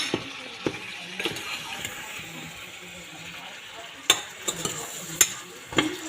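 Mango thokku frying in a pan, with a soft steady sizzle broken by sharp scraping clicks of a spoon stirring several times, fairly close.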